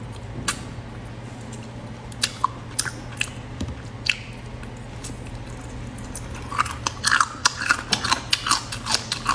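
Close, wet chewing and biting on sesame oil chicken feet at a mukbang table, with soft squishy bites and small crunches that come in uneven bursts and grow busier toward the end. No one speaks.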